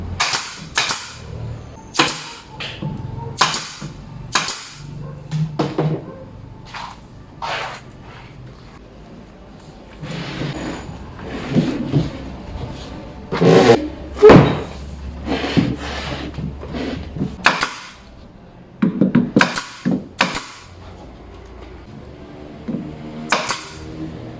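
Sharp, loud cracks of a nail gun firing into a wooden TV cabinet to fasten its feet, irregular single and doubled shots close up, with handling knocks and rubbing of wood between bursts.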